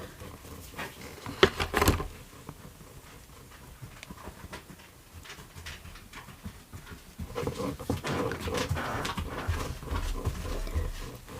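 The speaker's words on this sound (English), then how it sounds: "So here comes the dog" A dog comes close and pants in quick, rough breaths, with a loud snuffle near the start and heavier panting building toward the end, no talking.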